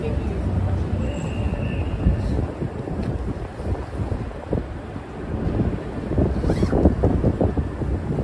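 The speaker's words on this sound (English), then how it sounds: "because it is quite windy" Wind buffets the microphone in a steady low rumble on a Midtown Manhattan street at night, with gusts rising and falling throughout and no clear speech over it.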